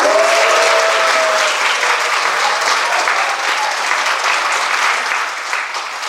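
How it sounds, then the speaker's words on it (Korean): An audience at a citizens' meeting in Saerom-dong gives the mayor loud, sustained applause, a thick, even roar of clapping from many people that holds for several seconds and eases off slightly at the end. "이 자리에 오셨는데 박수 한번 쳐드릴까요?"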